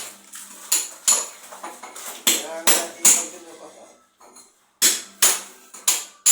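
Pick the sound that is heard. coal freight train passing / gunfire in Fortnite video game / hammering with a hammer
hammering with a hammer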